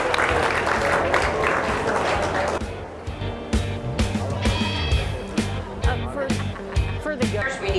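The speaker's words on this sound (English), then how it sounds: "Let's give them both a big round of applause as they exit the ring." Applause at a county livestock show as exhibitors leave the ring, a dense burst of clapping from the crowd that thins into scattered claps over an indoor murmur.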